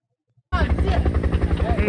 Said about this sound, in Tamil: இந்த ஹெலிகாப்டர் வந்துட்டு வீடியோக்குள்ள போலாமா?